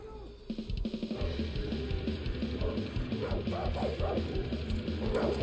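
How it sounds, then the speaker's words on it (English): Dogs in Far Cry 6 bark and yip in quick, repeated bursts, moderately close, over a busy game soundscape that continues beneath them. "Those dogs are going to tear into pieces."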